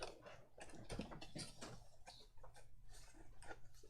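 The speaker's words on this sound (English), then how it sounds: "Some nice typewriter sound effects" Rapid typewriter-like clacking from sound effects, a dense run of sharp key strikes with irregular rhythm and a few brighter peaks, fairly close and alone with no talk.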